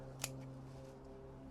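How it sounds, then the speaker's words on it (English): A single quick snip of scissors cutting side shoots off plants in a polytunnel, one brief crisp click over a steady low background hum. "if I could find a pair of scissors, I can take these side shoots off"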